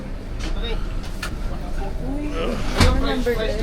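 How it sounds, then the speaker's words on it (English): A small bus climbing toward Mount Kemisong in Baguio hums with a low, steady engine drone and cabin rattle, while people talk over it close by. "this is our little chariot, our little champion bus that's going to get us up to the top of Mount Kemisong"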